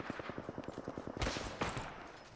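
Rapid automatic gunfire in a first-person shooter game, a fast even burst of shots followed by two heavier louder blasts, with no talk over it.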